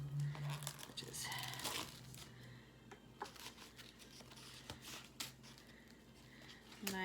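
Plastic packaging around pork chops being torn and cut open, crinkling and ripping in bursts close up, with a low steady hum underneath.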